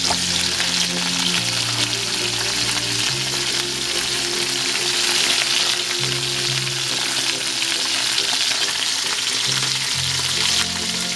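Lemongrass with shrimp fries in a pan, giving a steady loud sizzle that continues throughout with no talking.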